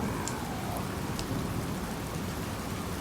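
Large hail pounding down in a violent summer hailstorm in Tucson, a dense, steady roar of impacts filling the whole stretch with constant hammering, loud and close, with no talking.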